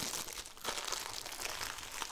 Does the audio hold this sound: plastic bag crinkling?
yes